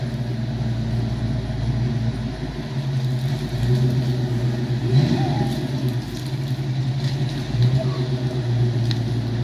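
An '89 Ford Mustang 5.0 V8 idles with a steady low rumble and rises into a revving surge midway, with people talking over the engine throughout.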